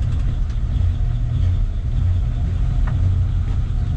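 Engine of a 1953 Ford F-100 half-ton pickup idling right after starting, a loud, close, steady low rumble that holds evenly throughout.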